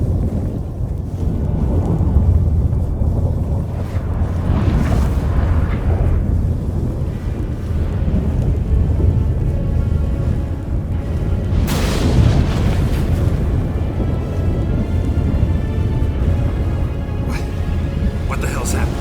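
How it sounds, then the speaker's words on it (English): A sudden storm with thunder in The Witcher 3: Wild Hunt, heavy low rumbling and wind-like roar with booming swells, one strong crack near the middle, all under spoken dialogue between characters. "That a storm?"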